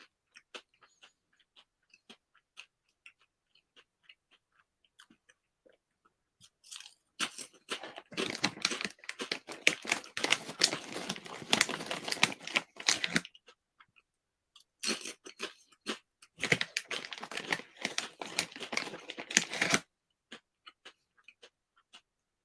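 Crunchy chips chewed close to the ear, two long bursts of loud, crisp crunching after a stretch of faint mouth clicks, with a short pause between the bursts.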